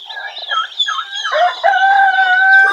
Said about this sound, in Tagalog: Ito yung mabait natin na inahin. Rhode Island to.